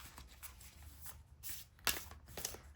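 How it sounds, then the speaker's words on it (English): A deck of tarot cards is shuffled by hand in a quiet room, soft papery riffles and flutters with a few sharper slaps of cards meeting. "I'm just going to put these back and keep shuffling"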